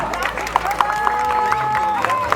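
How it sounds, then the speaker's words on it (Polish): Applause from a crowd at an outdoor running event's award podium as young race finishers step up, steady clapping with sharp claps standing out, heard under a loud announcer voice over a public address system. "Prosimy o brawa."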